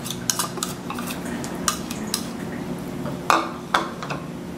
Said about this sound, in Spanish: Vamos a verter todos los ingredientes en un recipiente